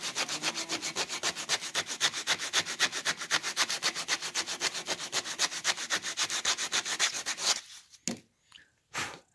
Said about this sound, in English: they'll come back with sandpaper and sand it